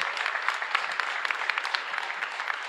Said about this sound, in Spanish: Fuerte aplauso entonces para todos nosotros.